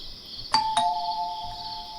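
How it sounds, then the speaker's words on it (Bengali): A house doorbell rings a clear two-tone ding-dong, two bright chimes in quick succession whose tones ring on and slowly decay over a quiet background. "আমি কলিং বেল চাপতেই"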